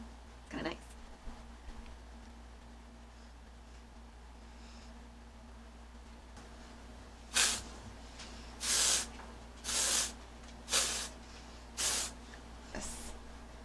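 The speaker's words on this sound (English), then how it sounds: "Spritz it all a little bit with dry shampoo and that conditioning mist" Several short, sharp hisses from spray bottles of dry shampoo and conditioning mist misted onto hair from a roller set, close and evenly spaced near the end, after a quiet stretch with a few faint handling sounds.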